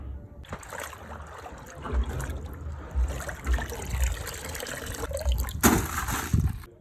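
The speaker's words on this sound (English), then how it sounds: "I am going to rinse it for the last time." Soaked grains being rinsed in water for making pap: close sloshing, swirling and trickling water with occasional splashes and handling of the container, continuous throughout.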